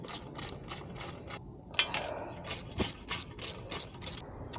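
A ratchet tightening bolts on a Toyota MR2 short shifter: rapid, repeated clicking strokes in short bursts, close and fairly quiet.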